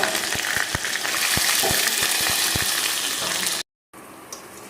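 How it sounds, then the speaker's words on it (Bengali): Cumin and ginger paste spice mix sizzles loudly in a hot pan, with steady frying hiss and irregular spatula knocks, then a brief cut to silence before quieter sizzling resumes. "সাথে দিয়ে দেবো একটু জিরে বাটা মশলাটা একটু কষিয়ে নেব"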